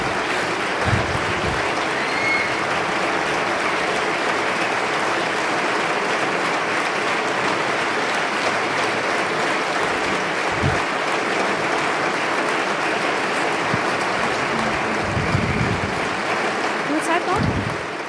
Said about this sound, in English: Dein Applaus. Your applause, Kübra Gümüşay.